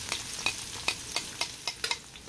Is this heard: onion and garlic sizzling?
yes